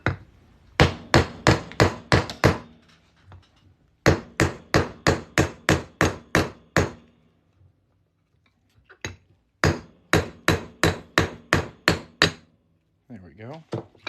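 A hammer strikes a silver poker chip coin being shaped into a ring in sharp rapid bursts of about seven or eight blows each, three runs separated by short pauses, loud and close.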